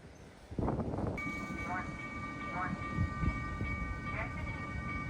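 A train rumbles steadily along the Busan coast with rhythmic wheel clatter, while a high electronic tone chimes repeatedly and faint voices murmur in the background.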